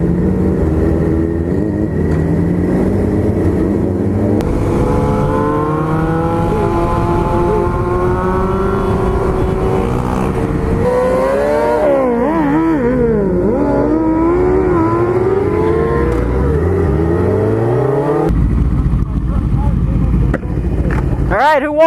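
Motorcycles, including a KTM 1290, accelerating hard in a night street race, with loud rising and falling engine revs sweeping past and gear shifts. A voice talks over the engines.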